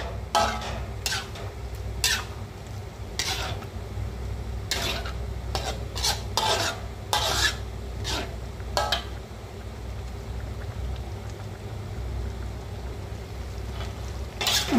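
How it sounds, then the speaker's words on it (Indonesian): Sambal with coconut milk bubbling in a pan, a steady close simmer broken by frequent sharp scrapes and knocks of a spoon stirring against the metal. "Sudah mendidih ini"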